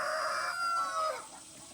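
A rooster on Polyface Farm crows once, a clear, fairly close cock-a-doodle-doo lasting just over a second, with no other sounds around it.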